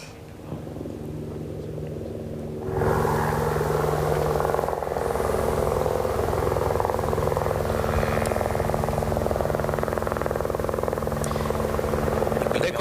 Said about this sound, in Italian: Ed ecco l'elicottero con le squadre dell'antincendio boschivo che scende a caricare la sua cesta di acqua